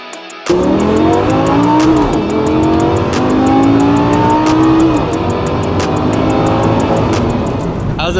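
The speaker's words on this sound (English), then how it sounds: "it's pretty hard to beat the sound of a V10" A V10 supercar engine revs hard and accelerates close by on a scenic San Diego cruise, pitch climbing through sharp gear changes with loud, sustained roar and brief shifts between pulls.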